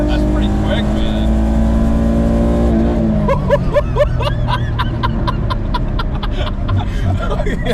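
A V6-swapped Acura Integra with VTEC revving hard and accelerating, a loud, rising engine note climbing steadily with rapid rhythmic pulses as it keeps pulling, heard from inside the car along with some voice sounds.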